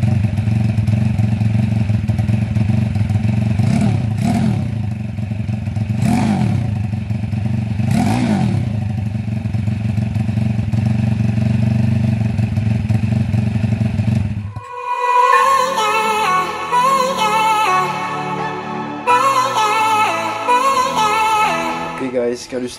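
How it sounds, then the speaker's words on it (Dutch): A 150cc Honda Dax four-stroke motorcycle fitted with a JMCA exhaust runs close by, idling with a steady throb and blipping the throttle three times, then cutting off into quieter clatter and background music. "Dus dit is het geluid van een 150cc DAX 4-takt"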